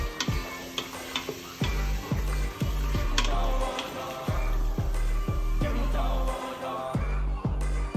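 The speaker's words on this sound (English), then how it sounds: "Then I stir that up." A spoon stirs paprika, barbecue seasoning and herbs into chicken livers in an Instant Pot, making repeated rhythmic scraping strokes against the pot, close and fairly loud.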